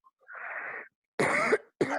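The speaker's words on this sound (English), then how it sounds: "not cough like this, cough like this" Three short coughs, a harsher drawn-out one followed by two sharper bursts separated by brief silences, close up and alone.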